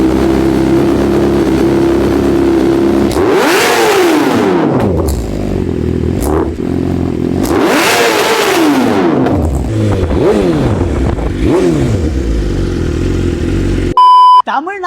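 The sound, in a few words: BMW S1000 RR M Sport motorcycle exhaust note revving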